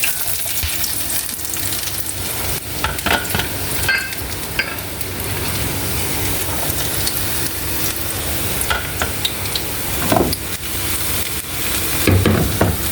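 Finely chopped garlic fries in very hot oil while making achar, producing a loud, steady sizzle with occasional stirring scrapes and clatters close by.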